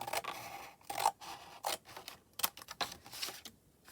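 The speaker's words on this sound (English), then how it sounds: "I will cut this piece off." Scissors cutting a piece off, likely paper or card for junk journal embellishments, heard as several quiet, close snips in an uneven rhythm with no voice.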